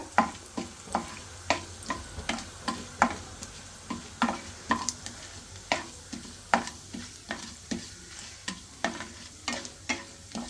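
Chana dal, urad dal and dried red chilies frying in oil with mustard seeds for puliyodharai, a soft sizzle broken by regular rhythmic scrapes of a spoon stirring the pan about twice a second, close by.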